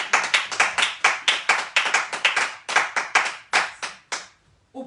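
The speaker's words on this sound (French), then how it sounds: "Est-ce qu'on peut acclamer pour le roi des rois?" A church congregation claps for the king of kings during a sermon, a loud close burst of many hands slapping in quick uneven rhythm for about four seconds, then it stops abruptly, leaving near silence.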